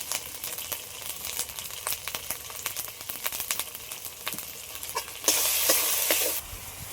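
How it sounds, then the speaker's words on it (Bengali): Masala cooked with sour yogurt for cauliflower biryani being stir-fried in a pan, close sizzling under repeated scraping and stirring strokes, with a louder burst of hissing near the end. "মশলাটা ভালো করে কষিয়ে নিয়েছি"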